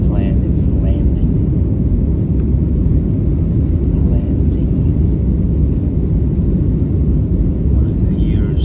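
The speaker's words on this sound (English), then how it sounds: "Plane is landing." A landing airplane fills the cabin with a loud, constant low rumble and roar, steady throughout with faint higher clicks and no clear talk on top.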